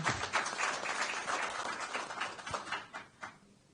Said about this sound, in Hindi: तो पहले तो जरा जोरदार तालियां अपने लिए बजाइए।